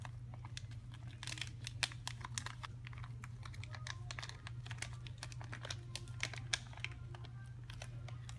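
Plastic bag holding a grease-coated O-ring for a Bio Bubble setup being opened and handled, quiet rapid crinkling and crackling close by over a low steady hum.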